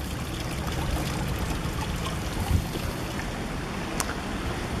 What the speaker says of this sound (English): the water is just flowing over to the steps